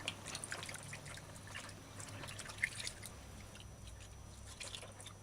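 Rinse water trickles and dribbles as it is poured off washed bulgur wheat, faint splashy drips and a thin pouring stream close by, quiet and alone.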